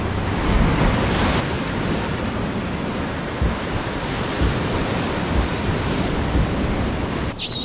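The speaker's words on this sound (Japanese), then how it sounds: "波が正面から来るから" Sea waves surge against the shore at a rocky fishing spot in Niebura, Mie, a loud continuous roar of breaking water mixed with wind buffeting the microphone, with no speech.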